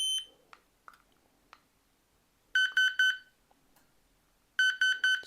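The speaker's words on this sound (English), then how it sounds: "Finally, we've got the e-whistle." A Paw Behave dog training corrector's electronic e-whistle sounds two bursts of three sharp, high, piercing beeps, with faint button clicks and handling noises between them, close and alone.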